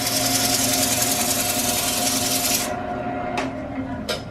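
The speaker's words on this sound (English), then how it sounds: "You take your sandpaper, you fold it up" Steady abrasive rasping of folded sandpaper against a spinning eucalyptus bowl over a Jet 1440 lathe's motor hum, then the rubbing stops, leaving the motor with a couple of brief scrapes.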